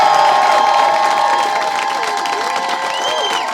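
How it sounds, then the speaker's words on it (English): A comedy club audience at a comedian-of-the-year heat applauds and cheers loudly, a dense wash of clapping with whoops and whistles that stays steady and close, easing slightly toward the end, with no speech over it. "please put your hands together for Aaron Woods."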